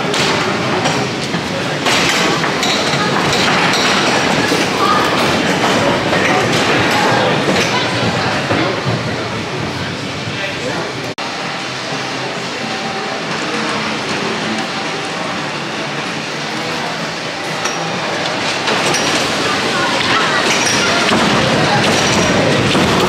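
Wooden roller coaster Nickelodeon Streak at Blackpool Pleasure Beach, a classic woody built from parts of the old Velvet Coaster, giving a steady loud roar and rattle of the train on track with riders' voices mixed in throughout.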